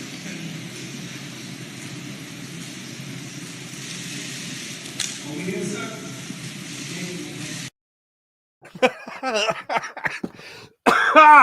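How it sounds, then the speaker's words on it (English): A few rough coughs and throat-clearing bursts break through after a stretch of steady background rumble and a brief silence. "Still fighting this cough."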